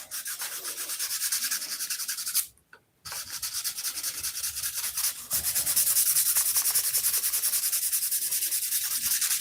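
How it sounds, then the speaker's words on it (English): Sandpaper rubbed steadily over a surface during a paint or colour repair, a continuous close scratchy rasp with a brief pause before the strokes resume and grow slightly louder. "Okay, so now we'll just take this sandpaper here."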